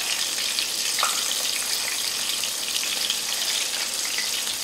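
Shrimp frying in hot oil give a steady, dense sizzle and crackle that stays even and close throughout, with no talking.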